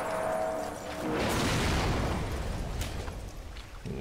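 Explosion in the video game BioShock Remastered, a heavy rumbling blast with crackling debris that swells and lingers for a few seconds, fairly quiet overall with no talk.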